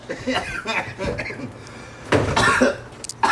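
A few dry, rough coughs in quick succession, close to the mic, with some throaty noise between them.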